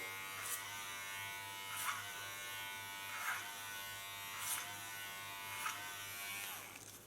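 Electric hair clippers buzzing steadily while cutting hair, a close, constant hum with faint brighter swells every second or so as the blade passes over the hair.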